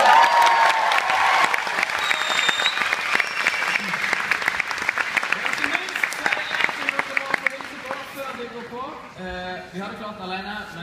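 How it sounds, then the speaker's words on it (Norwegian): Studio audience at a Norwegian TV talk show bursts into sustained applause, a dense continuous clapping that slowly thins out, with a voice speaking over the end. "Gi han en applaus!"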